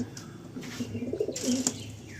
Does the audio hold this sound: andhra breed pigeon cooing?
yes